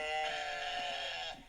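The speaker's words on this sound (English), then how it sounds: "for a second you're going to be listening to the goats" A goat lets out one drawn-out, nasal bleat lasting over a second, fairly clear and close, with no talking.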